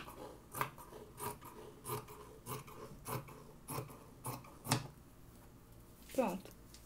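Scissors snip through skirt fabric in a regular series of close, sharp cuts spaced about half a second apart, with a brief voice near the end.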